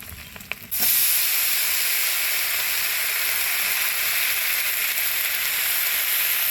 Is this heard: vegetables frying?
yes